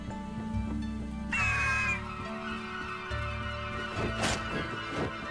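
A bird caws sharply in the video game Jotun, a harsh call rising over game music and ambient effects, followed by thumping impacts.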